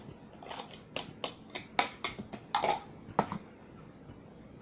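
Pizza dough ball being beaten with egg and almond flour, a series of quick tapping, slapping hits in an uneven rhythm, close and fairly soft.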